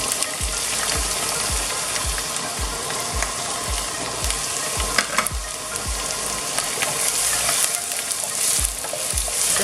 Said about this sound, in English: so I'm just gonna add the onions, and I'm gonna adding the onions and the green chilies now